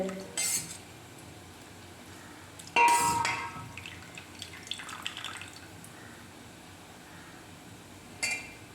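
Utensils clink against dishes and pots while anchovy curry (nethili kuzhambu) is served, a few sharp separate clatters scattered over quiet background, with faint liquid sounds between them.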